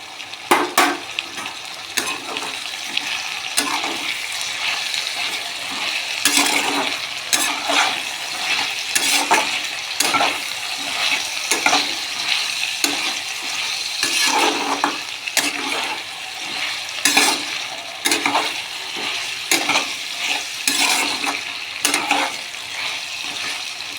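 Poppy seed paste with ridge gourd frying in a pan, a steady broadband sizzle with repeated scraping stirs throughout, close and continuous, no talking.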